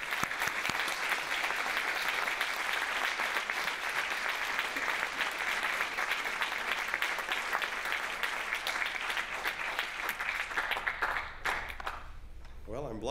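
An audience at a Shakespeare Uncovered premiere screening applauds in a sustained, dense wash of clapping that stays strong for about eleven seconds, then thins out and fades near the end.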